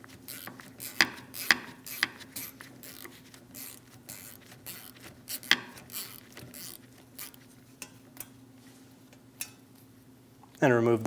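A ratchet working the starter bolts on a 2001-2006 Chevrolet Silverado 2500 HD 8.1L V8, quick clicking bursts with scattered metallic clinks of tools, near and moderately loud, ending in a louder clatter.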